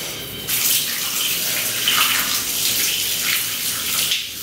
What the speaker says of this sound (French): Donc maintenant je vais rincer.